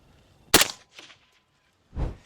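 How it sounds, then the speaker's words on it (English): A 6mm ARC rifle fires a single sharp, loud shot at a concrete highway barrier outdoors, followed by a short echo and a second dull thump a moment later. "6mm arc against our concrete barrier, firing."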